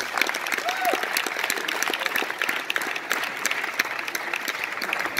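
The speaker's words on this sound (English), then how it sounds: "Please can we applaud the Nigerian police guys?" A comedy show audience applauds the Nigerian police, a moderate, even wash of clapping that holds steady throughout, with faint voices mixed in.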